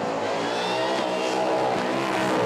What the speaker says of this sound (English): That was a big burnout.